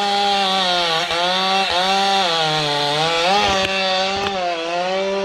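A Husqvarna 395 XP chainsaw runs loud and close, its engine note rising and falling through several throttle changes with a raspy buzzing tone and no voices.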